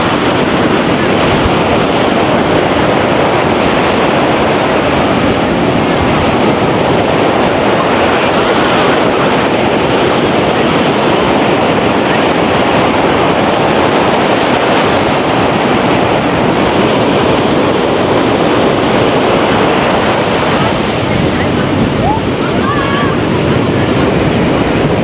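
Sea waves break on Hawks Bay beach in Karachi, making a loud, continuous roar of surf mixed with gusty wind buffeting close by.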